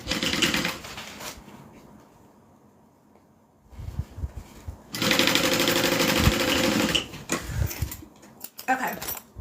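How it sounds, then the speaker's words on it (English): Sewing machine stitching across the side of a fabric bag: bursts of steady, fast mechanical whirring, stopping and starting, with quieter gaps between runs and some handling noise. "I'm just going to sew all the way across the side."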